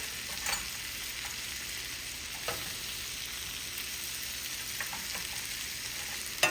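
Cauliflower steak frying in a pan with a whole lemon added, giving a steady close sizzle throughout with a few small pops and spits, no voices.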